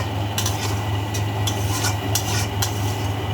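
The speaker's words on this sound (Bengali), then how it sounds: "মশলাটা দিয়ে দিয়েছি, এবারে কষাচ্ছি।" Spice paste being sautéed in a pan with a utensil, a continuous sizzle under a steady low hum, broken by several sharp scraping and stirring clicks spaced irregularly across the few seconds.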